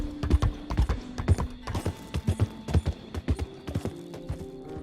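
Horse hooves clip-clop in a steady, close rhythm as a rider slowly crosses open country in Red Dead Redemption 2.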